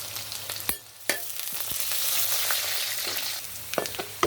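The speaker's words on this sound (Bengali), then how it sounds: "ভেজে নিচ্ছি পেঁয়াজগুলি, বাদামি কালার করে নিচ্ছি" Chopped onions with cumin, dried chili, whole spices and a bay leaf frying in oil give off a steady, moderate sizzle, broken by a few sharp clacks of a spoon stirring the pan.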